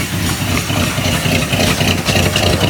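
An old Jeep left sitting for 25 years idles with true dual exhaust, a steady close low rumble with even, rhythmic pulsing and no pauses.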